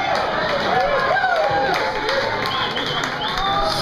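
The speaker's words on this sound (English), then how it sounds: "Save your applause till after the song." A concert crowd at The Coach House claps and cheers for Magpie Salute, a dense steady wash of applause with voices and whoops mixed in throughout.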